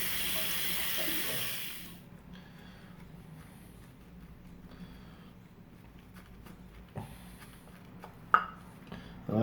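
Hot water gushes from a bathroom tap in a loud hiss for about two seconds before shutting off, followed by quieter drips, clinks and small splashes from a shaving sink.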